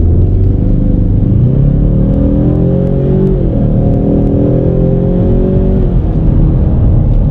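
Stock 2019 Ford Mustang EcoBoost accelerating hard down a straightaway in sport mode, a loud interior engine drone rising in pitch through several gear changes, steady and close with no talking.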